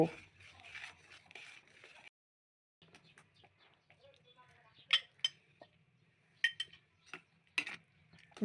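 Fried fenugreek leaves being stirred into dal in a pan, with a spoon scraping and clinking against the metal in irregular knocks and taps, a short pause partway through, set against low kitchen hum and faint background voices.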